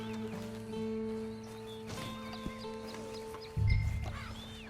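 A horse in the video game Red Dead Redemption 2 on PS5 whinnies and clip-clops amid a steady tonal hum, with a short burst of louder low rumble near the end.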